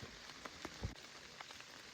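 Heavy rain pouring outdoors on a deer hunt, a dense, steady hiss of drops with scattered louder taps and patters nearby, no voices.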